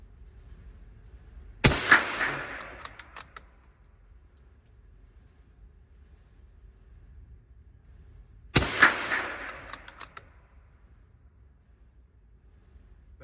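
A Ruger .22 precision rifle fires subsonic rounds outdoors: two sharp, loud reports about seven seconds apart, each followed by a short decaying echo over quiet background hiss.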